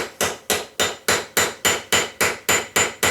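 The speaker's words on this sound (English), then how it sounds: "attack it here with the hammer and just peen the end of it" A hand hammer peens over the end of a bolt on a vise rack stop, ringing out about eleven sharp metallic strikes in a steady, even rhythm, close and loud with no voices.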